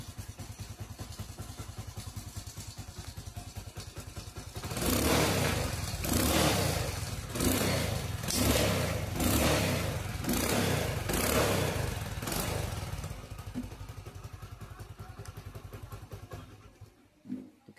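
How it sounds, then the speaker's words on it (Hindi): 1999 Hero Splendor motorcycle engine running after its first kick start, idling steadily before a series of loud, rhythmic revs, then settling back toward idle and cutting off. "1999 मॉडल स्प्लेंडर। तो ये फर्स्ट की स्टार्ट है, आपको अभी दिखाता हूँ मैं।"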